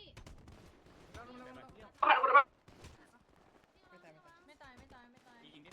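A short, loud burst of gunfire rings out in the GTA V FiveM video game, lasting about half a second while players talk excitedly before and after it.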